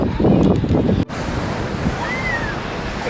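Surf rolls in at a beach, a loud wash of breaking waves mixed with wind buffeting the microphone, the surge strongest at first and then settling into a steady rush.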